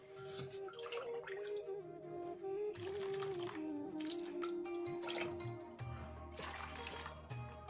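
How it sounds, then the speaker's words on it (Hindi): Water is poured from a jug into chicken roll paratha batter, giving a close, continuous splashing trickle with drips, under faint background music and no talking. "तो अभी इस बैटर में 1 कप पानी और डालूंगी।"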